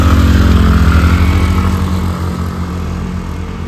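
TVS Ntorq and Honda Activa 125 scooters race side by side in a drag race, their loud, close engines droning hard together and then slowly fading as they pull away.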